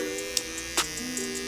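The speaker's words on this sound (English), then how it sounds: "the only thing that I have a problem with this clipper blade is that when it's closed, it sounds like this" Bevel Pro hair clipper running with its blade closed, a steady close electric buzz with a high whine and a couple of faint clicks, no talking.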